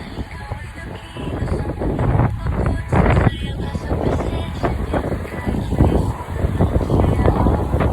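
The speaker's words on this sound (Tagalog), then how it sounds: "Lakas ng hangin." Strong gusts of wind batter the microphone outdoors while someone walks home through a park, producing a loud, rumbling roar that swells and fades, with voices in the background.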